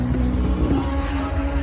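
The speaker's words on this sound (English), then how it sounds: "you can hear the race car behind me" Race car engine at an outdoor import car show, a steady droning engine hum with a sustained tonal note, moderately loud from nearby behind the crowd.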